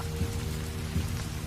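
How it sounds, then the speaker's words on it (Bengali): Light rain falling outdoors under cloudy skies, a soft steady patter of drops on surfaces with a couple of slightly louder taps, no voices heard. "এখন তো হালকা বৃষ্টিও হচ্ছে"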